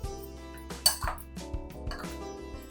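Powdered sugar and dry ginger powder are stirred together in a bowl with a spoon, giving a series of light clinks and scraping taps against the bowl, close and fairly quiet.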